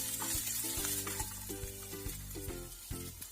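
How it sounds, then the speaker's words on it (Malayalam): Chopped ginger and green chilli sauté in a pan for rava idli, a hissing sizzle running under steady tonal background notes, with brief stirring knocks throughout. "ഇഞ്ചിയും പച്ചമുളകും കൂടെ ഒന്ന് വഴറ്റിയെടുക്കണം"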